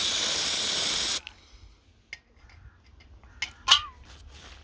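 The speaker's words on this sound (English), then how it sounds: "A little spray of degreasant." Degreaser sprayed onto a mountain bike's rocker link pivot bearing during a service: one loud, steady hiss of about a second at close range, followed by faint clicks and light handling noises.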